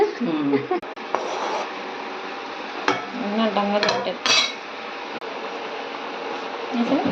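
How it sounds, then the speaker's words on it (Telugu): Fried brinjal curry is stirred gently in a pan with a metal spoon, producing a few soft scrapes and clinks, while a person talks over most of the sound. "వేపిన వంకాయ కాబట్టి స్లోగా కలుపుకోవాలి"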